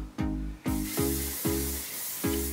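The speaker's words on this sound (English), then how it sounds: "we're going to go in with some thermal spray on my leave out" Several short bursts of thermal hair spray, each a quick puff followed by a lingering airy hiss, fairly close and steady over a low mechanical hum.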